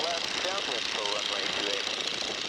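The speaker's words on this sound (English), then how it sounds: "You got your first Stearman takeoff" A Stearman biplane's engine roars steadily during takeoff, a loud rough drone with a wavering tone and no pause.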